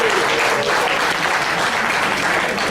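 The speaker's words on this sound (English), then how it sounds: "give yourselves a round of applause for coming out for Valentine's Day." A senior-center audience at a comedy show claps together in sustained, dense applause that holds steady throughout, with no talking over it.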